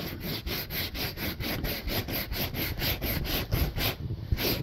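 Stiff brush scrubbing old leftover glue off the roof headliner of a Mini One car, rapid regular back-and-forth rasping strokes, close and loud with no talk.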